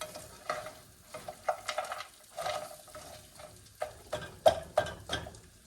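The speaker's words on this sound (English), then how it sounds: "we're gonna use it to, first of all, break apart any clumped up potatoes that are together" A spatula scrapes and stirs clumped potatoes frying in a pan for a hangover breakfast hash, producing irregular scraping taps over a soft, steady sizzle, with sharper knocks near the end.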